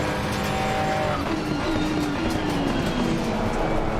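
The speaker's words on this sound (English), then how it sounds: "I'll drive with the Lamborghini GT3 Evo" A Lamborghini GT3 Evo race car in a VR racing game, its engine note droning steadily and shifting pitch as it accelerates, with a faint tyre and wind wash underneath.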